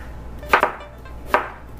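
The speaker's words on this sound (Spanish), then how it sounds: "la cebolla la voy a cortar a mano porque esto sí va para que no se pierda" An onion is chopped by hand with a knife on a board: three close, crisp knife strikes, two in quick succession and one after a short pause, with no talk.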